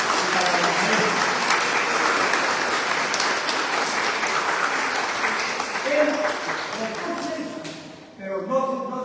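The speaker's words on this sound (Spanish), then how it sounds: "Un aplauso para Walter Peñalosa y para la iglesia" An audience at a book fair event at UNE in Lima applauds for Walter Peñalosa, a dense sustained clapping that fades after several seconds, with a voice then speaking over the dying claps.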